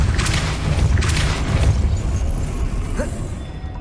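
Depulso spell cast in Hogwarts Legacy: a pair of quick booming bursts close together, loud and broad with a rumbling low end, fading into steady game background noise.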